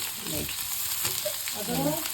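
Tempering spices such as cumin, mustard seed and curry leaves crackle and sizzle in a pan for seasoned rice, with continuous frying hiss and some stirring scrapes.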